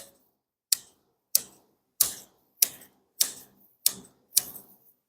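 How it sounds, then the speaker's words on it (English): Seven crisp, sharp snips of scissors cutting microgreens at a steady pace, each a bright click with a short tail, close up and otherwise quiet. "just take a scissors or pruning shears"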